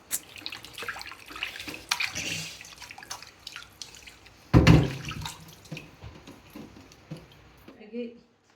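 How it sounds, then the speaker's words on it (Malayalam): Raw chicken being washed under a running kitchen tap, water splashing steadily with a louder gush partway through, then cutting off near the end; a voice talks quietly underneath. "ഇതൊന്ന് കഴുകി വൃത്തിയാക്കി എടുക്കാം."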